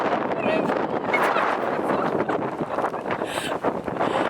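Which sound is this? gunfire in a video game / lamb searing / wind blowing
wind blowing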